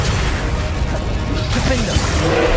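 Confringo and Incendio fire spells cast in the video game Hogwarts Legacy, heard as dense, loud blasts and whooshing fiery bursts filling the whole stretch, with a voice shouting spell names over them.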